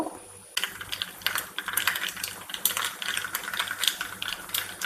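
Mustard seeds popping in hot coconut oil in a pan, a dense run of sharp crackles and pops that starts abruptly after a brief quiet moment and keeps going steadily, fairly close.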